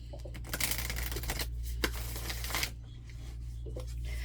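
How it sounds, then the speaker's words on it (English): A deck of cards is shuffled close by in quick bursts of riffling and papery flicks, with short pauses between, over a low steady hum. "Sometimes I like to just shuffle the cards."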